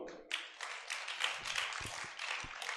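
An audience clapping at a spoken talk, a dense patter of many hands that starts abruptly and carries on steadily at moderate loudness.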